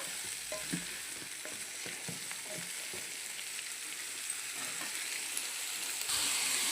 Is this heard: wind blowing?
no